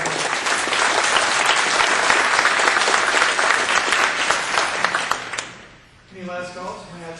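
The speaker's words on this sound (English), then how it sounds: "Please give a round of applause again, a round of applause in support of not only our candidates" An audience applauds at a city council candidate debate, with loud, sustained clapping for about five seconds that fades out, followed by someone speaking.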